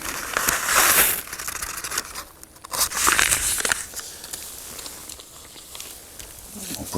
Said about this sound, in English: I got my bag here, a Ziploc bag